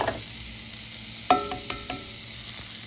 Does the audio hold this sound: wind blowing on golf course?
no